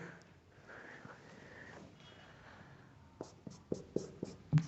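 Marker or chalk writing on a board in a maths classroom: soft scratchy strokes at first, then a quick series of faint, sharp taps as characters are written.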